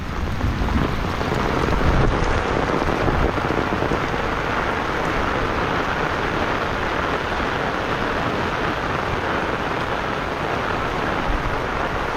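Heavy rain pours steadily beside a river, a dense loud hiss of drops that fills the whole stretch without pause, with no voices.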